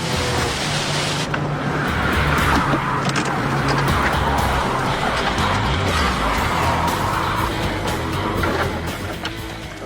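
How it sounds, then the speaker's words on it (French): A car driving through deep standing water on wet tarmac at close to 200 km/h, aquaplaning and spinning, heard as a loud continuous roar of engine and rushing spray, a broad washing hiss with shifting engine tones throughout. "Une belle démonstration d'aquaplaning."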